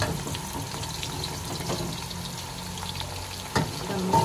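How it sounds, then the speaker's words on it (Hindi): Thin onion slices frying in hot oil for biryani, a continuous bubbling sizzle up close with a few clinks and scrapes near the end, no voices. "ऑयल गर्म हो चुका है, तो मैं इसमें प्याज ऐड करने लगी हूँ।"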